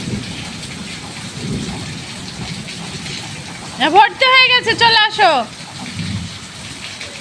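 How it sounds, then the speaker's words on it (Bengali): Steady rain falls with low thunder rumbling in the background, and a voice speaks briefly in the middle over the downpour. "আমাদের এখানে অনেক বৃষ্টি হয়েছে"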